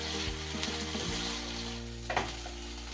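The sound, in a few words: cluster beans (guar) frying in oil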